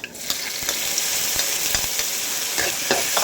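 Bottle gourd and tomato fry in a pan with a loud, continuous sizzle, broken by brief stirring scrapes and clinks close by.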